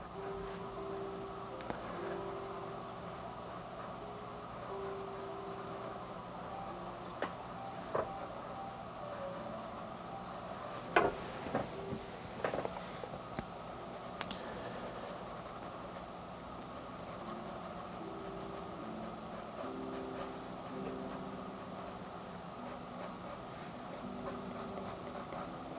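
Graphite pencil shading in a sketchbook while drawing a tree, a soft continuous scratchy rasp of strokes with a few sharper taps, close and quiet.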